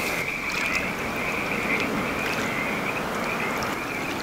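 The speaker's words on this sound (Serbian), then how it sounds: "dobrodošlicu nam žele hiljade žaba koji su očigledno članovi žabljeg hora" Thousands of frogs croaking in a dense continuous chorus on a large island in the Danube, a steady massed trilling that fills the air at moderate loudness, with no talking.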